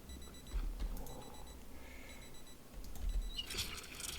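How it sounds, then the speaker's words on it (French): An alarm clock beeps faintly in a room, thin intermittent tones over a low background rumble, growing a little busier and louder near the end, with no talk. "Bon, l'alarme, on s'en fout."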